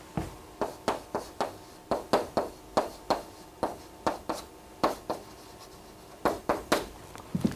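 An example being written out by hand gives a quick series of crisp taps and scratches, close and quiet, in an uneven rhythm of about twenty strokes with short pauses.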